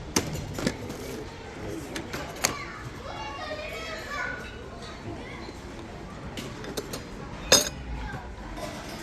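Metal spoons clink and chink as they are handled in a busy bazaar shop in Riyadh, a few sharp scattered rattles rising over children's voices and background chatter.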